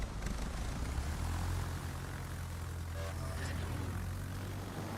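A propeller plane's engine drones steadily as the aircraft launches in a naval warfare video game, a constant low hum that stays loud throughout.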